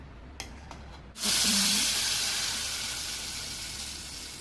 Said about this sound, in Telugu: ఇప్పుడు దీన్ని అయితే తాలింపు వేసుకుంటా.